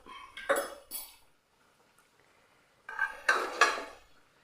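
Fried puffs are scooped out of oil in a pressure cooker, giving two short bursts of close metallic clatter and scraping separated by a brief quiet pause.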